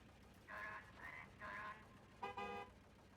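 A horn in a video game honks four times in uneven bursts, the last one harsher and buzzier, heard at moderate volume against a quiet background hum.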